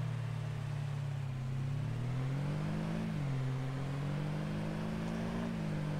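Vehicle engine in the Taheton County farming game droning steadily as it drives off toward another farm, a low hum that rises slightly in pitch and settles, constant and close with no talking.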